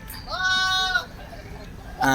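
A goat bleats loudly and close for about a second, a wavering nasal cry, at a large livestock market in Saudi Arabia. Market background noise continues after it, and another animal call starts at the end.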